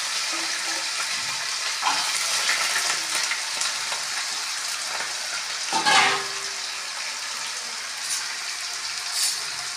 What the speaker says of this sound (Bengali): আলুগুলো একটু সামান্য ভাজা ভাজা করে